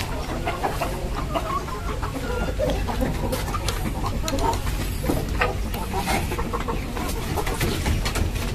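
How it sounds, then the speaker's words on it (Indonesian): Kampung chickens cluck and chatter steadily inside a backyard coop where Bangkok fowl are also kept, a dense overlapping flock sound held close and fairly loud throughout. "Ada juga ayam kampung"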